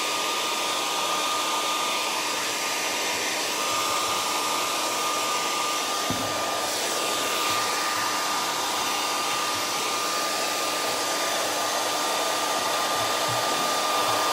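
A hair dryer runs steadily and close, drying paint on a wooden wine barrel door hanger, with a constant whooshing blow and a faint high whine throughout, no talking.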